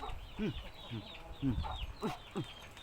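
Chickens cluck in a short series of five or six distinct calls, close and fairly loud over a low outdoor background.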